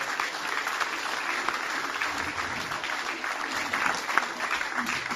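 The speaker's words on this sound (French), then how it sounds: "Je voudrais vraiment que vous les applaudissiez" Steady applause from an audience at a chess tournament prize-giving, honoring the event's sponsors; dense, even clapping holds throughout at moderate level with no pauses.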